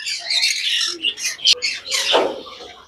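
Pineapple conures in a bird sale enclosure let out several sharp, harsh squawks in quick irregular bursts, fairly close, with brief quiet gaps between calls.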